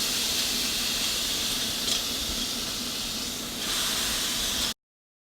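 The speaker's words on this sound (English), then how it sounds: "So let's go throw these in a hot pan." Mushrooms sizzle in a hot dry pan with no oil yet, a steady loud hiss with a brief drop in level before it swells again and then cuts off abruptly.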